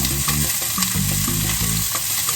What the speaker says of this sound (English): I will throw in the onions and peppers and let them hang out and cook for a little bit